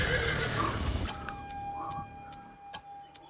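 A horse whinnies loudly at the start, followed by quieter background noise and a faint high tone, with no talking.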